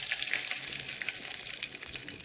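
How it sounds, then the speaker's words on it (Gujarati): Curry leaves crackle and sizzle in hot oil with asafoetida and popped mustard and cumin seeds, a dense, steady frying hiss with sharp pops running throughout, close and fairly loud. "હવે તેમાં આપણે મીઠા લીમડાના પાન ઉમેરી દઈશું"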